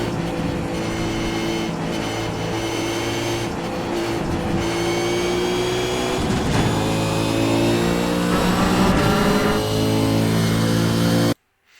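Race car engine at Road America, held at high revs through a corner with the throttle modulated, a steady loud drone with small dips and surges in pitch and no talk over it.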